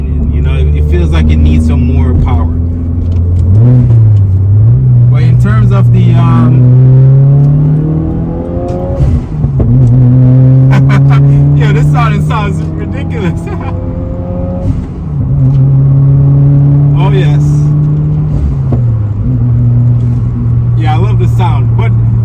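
A Subaru WRX engine revving and rising through the gears while driving, loud and close, with repeated climbing pitch sweeps and occasional talking over the engine.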